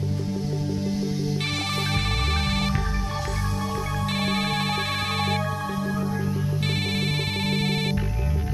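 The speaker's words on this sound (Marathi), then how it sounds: "फोन पण उचलत नाहीये." A telephone rings unanswered indoors, three bursts of bright electronic ringing separated by pauses, over a steady background of music.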